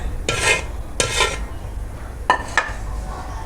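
Spoon scraping and clinking in a bowl as boiled potatoes are mixed with salt, chilli flakes and spices, with four distinct stirring strokes in two pairs, close and fairly loud.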